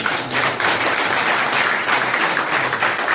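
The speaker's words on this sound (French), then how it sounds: "Applaudissez encore pour le Seigneur." A church congregation applauds steadily throughout, a dense sustained wash of clapping with no gaps and a faint steady high tone running underneath.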